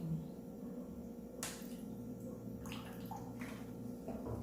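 Vinegar poured into a container of water while making colored water for a gender-reveal tea, heard as a steady pouring, gurgling trickle with a few brief splashy bursts, close and fairly quiet, with no talking.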